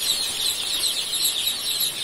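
Two-day-old joper chicks in a brooder, a dense continuous chorus of high-pitched peeping from many birds close by, with no talking.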